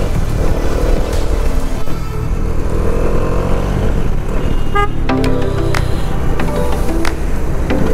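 A Bajaj Dominar 400 motorcycle pulls away on a road, its engine loud and steady throughout amid traffic noise, with a few short horn toots near the end.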